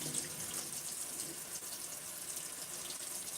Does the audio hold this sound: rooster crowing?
no